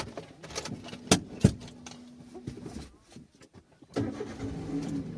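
A car engine turns over and catches close by after a few sharp clicks and rattles, settling into a steady idle hum toward the end.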